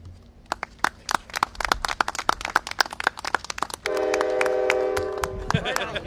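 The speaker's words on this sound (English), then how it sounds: "Isn't that a beautiful sight behind us, the Metra train?" A Metra commuter train passes close by outdoors in northern Illinois, a steady rhythm of rail clatter giving way to a loud sustained horn blast near the end.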